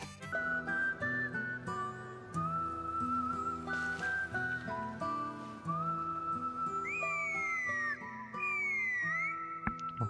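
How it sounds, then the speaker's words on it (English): Melodic whistling from the Genshin Impact video game plays over continuous game music. Bright, wavering pitched notes stand out near the end, and no one talks. "Whistle. Whistle."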